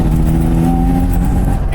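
First-generation Mazda RX-7 SA22C with Fitech EFI, engine revving as the throttle is pressed from about 2000 RPM, a loud, close, sustained rotary drone with a rising tone.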